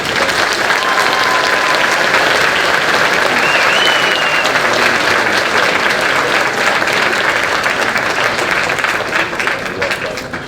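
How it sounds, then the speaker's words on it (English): Sustained audience applause at a classic car auction, a dense steady clapping from a large crowd that runs loud and unbroken for about ten seconds before easing slightly at the end. "we'd like to just give her a round of applause for Mr. Ed Herrmann."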